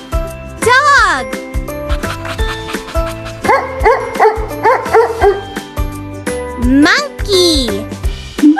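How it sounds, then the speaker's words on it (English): A dog in a children's animal sounds and names program barks and yips several times, loud and close, over a bouncy, jingly backing tune. "Dog."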